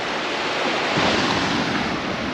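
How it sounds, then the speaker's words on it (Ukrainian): Surf washing steadily onto a stony beach on the Sicilian coast, a continuous loud roar of breaking waves with some wind noise, no voices. "Спеціально вийшов на пляж, ось на такий кам'янистий, щоб подивитися, як тут взагалі люди купаються."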